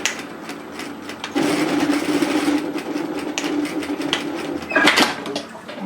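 A sewing machine edge-stitches a strap on a one-shoulder twist-knot sweater, its fast whirring stitch running steadily for several seconds close by, with a brief louder burst near the end.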